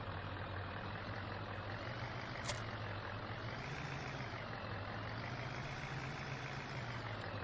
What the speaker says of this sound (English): that Duramax looks awesome with that plow on it